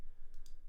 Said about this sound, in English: So let's see if I just click a load of things.